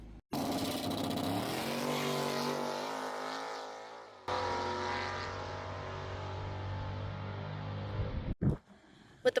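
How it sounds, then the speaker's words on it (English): A Mustang drag car's engine roars loud and steady through a motor-only test pass at a drag strip, holding a sustained harmonic drone that cuts briefly before resuming, then drops off to near quiet at the end. "So we're going to put 2 spark plugs in it, do a pass, motor only"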